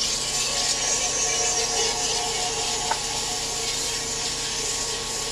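Fine-grit sanding on acrylic or natural resin with abrasives as fine as 12,000 grit, heard as a steady, soft, hissy rubbing that runs unbroken throughout with no talk.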